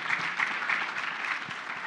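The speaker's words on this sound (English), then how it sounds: "let's give our panel a round of applause" An audience at an energy industry conference panel gives a brief, dense burst of applause.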